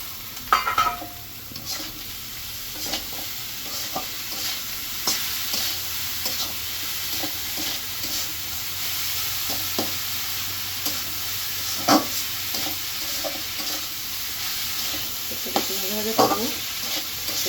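Chicken meat frying in a hot pan hisses continuously, with frequent scraping and tapping as a utensil stirs it. The stirring is close and moderately loud, with a few sharper knocks against the pan.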